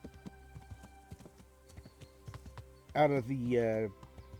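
Steady hoofbeats clip-clop at a walking pace throughout, then a loud horse whinny rings out near the end, in the video game Kingdom Come.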